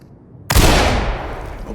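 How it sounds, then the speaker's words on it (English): A flashbang grenade bursts in the tactical shooter Ready or Not, a sudden loud broadband blast after a quiet half second, followed by a long harsh ringing decay. "Open and deploy flashbangs."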